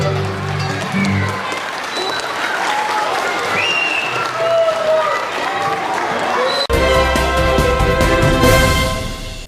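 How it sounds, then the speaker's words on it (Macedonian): A full concert hall audience claps loudly at the end of a performance, dense applause that fills the first two thirds before an abrupt cut to a different sound with a steady tone. "членовите на друштвото беа наградени со голем аплауз од публиката"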